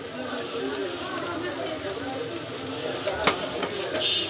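A cooked chicken and vegetable mince mixed with chopped coriander leaves sizzles softly in a pan, stirred with a continuous scraping hiss and a sharper clink near the end.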